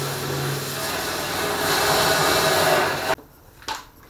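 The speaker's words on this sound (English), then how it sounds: "the first thing I'm going to try is this wee bit on the drill, take the paint off here." A wire bit on a drill scrubs paint off the metal boot floor of a classic Mini, making a continuous close abrasive grinding that stops abruptly, followed by a short burst.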